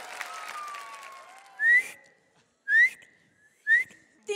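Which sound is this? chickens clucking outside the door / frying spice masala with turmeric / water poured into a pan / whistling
whistling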